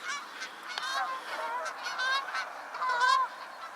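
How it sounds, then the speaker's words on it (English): Several geese honk repeatedly as they pass overhead, their calls overlapping and rising and falling in loudness. "Old geese going by"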